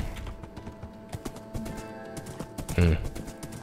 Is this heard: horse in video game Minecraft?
yes